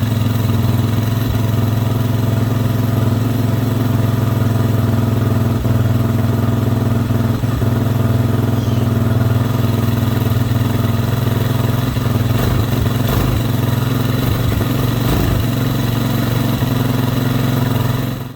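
A Hawk 250 Enduro motorcycle engine idles steadily right after an oil change, a close, continuous low thrum with light mechanical clatter and small fluctuations throughout, no talking.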